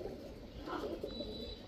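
Soft, low pigeon cooing from Damascene, Budapest and high-flyer Giribaz pigeons at a bird market, quiet and close, with no one talking.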